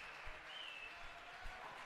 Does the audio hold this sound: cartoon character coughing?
no